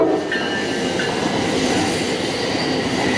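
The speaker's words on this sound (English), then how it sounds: "Now that's an Amtrak. That's a passenger." An Amtrak passenger train rushes past loudly and close along the Carquinez Strait near Crockett, California, a steady roar of wheels and rails with faint squealing tones.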